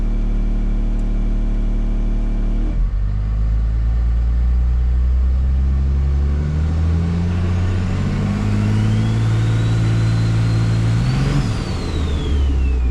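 A car engine with a compound turbo kit, 67/67 and 488, and a stock stall converter revs hard and close, deep and loud, its pitch climbing as the turbos spool with a rising whistle, then easing off near the end.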